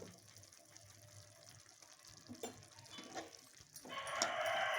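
Water is added to a capsicum curry cooking in a pan, building from faint clatter into a steady, close gushing wash of pouring and sizzling at the end.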